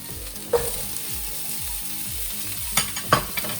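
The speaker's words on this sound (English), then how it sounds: "just stir that until it's a light brown" Onions and garlic frying in a pan, a steady close sizzle with repeated spoon scrapes and a few sharper clicks as they are stirred.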